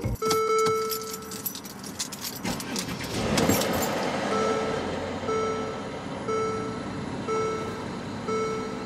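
Car keys jangle close by in a busy metallic rattle for about three seconds, then a car's warning chime beeps in a steady, evenly spaced repeating pattern until the end.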